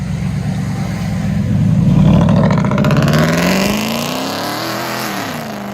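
A Ford F-150 with a 5.0L Coyote V8 and loud aftermarket exhaust roars as it accelerates past, the deep rumble rising then fading as the truck drives away.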